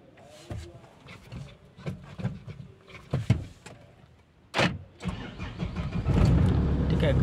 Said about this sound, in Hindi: स्टार्ट भी हमारी गाड़ी एकदम परफेक्टली है